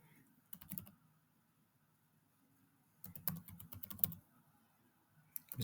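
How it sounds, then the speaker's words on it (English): Computer keys clatter in two short bursts of typing with a pause between, close and fairly soft, while a formula is entered into a database. "let's type that in exact."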